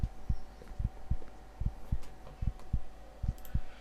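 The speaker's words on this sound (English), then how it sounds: "If you listen to heartbeat," A slow, steady heartbeat from a feeding victim in the vampire game Vampire: The Masquerade - Redemption, with regular low thumps repeating about once every half second over a faint hum, no voices.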